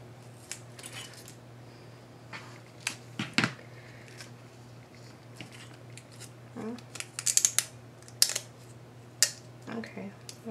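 Scissors make scattered sharp snips and crisp cuts while trimming paper for a handmade craft album. The cuts are close and intermittent over a quiet room, with a few small clicks between them.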